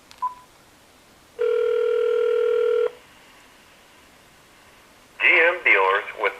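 A telephone on speakerphone dialing an 800 number gives a brief tone, then a long steady dial tone, followed by a quick burst of dialing tones and a recorded voice.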